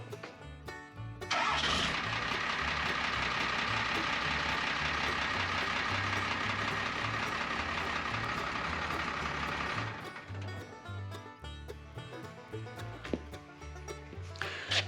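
An off-grid lifestyle truck cranks and fires up, then settles into a loud, steady idle for several seconds before the engine note drops back to quieter running with scattered clicks and knocks.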